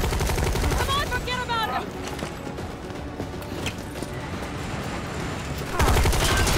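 Explosions and gunfire boom through a Resident Evil 3 Remake sewer boss fight against Nemesis, a dense, continuous roar with a fresh loud blast near the end.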